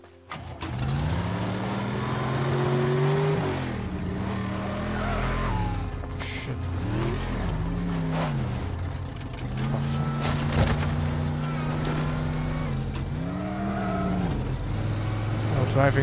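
A car engine drones steadily in a video game, rising and falling in pitch with acceleration and gear changes, loud and continuous throughout, with occasional impacts and game sounds layered over it.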